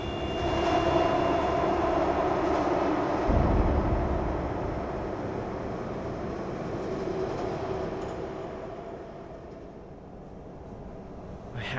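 Continuous rumble and rattle of a train running along the rails, steady and fairly loud, fading slightly toward the end.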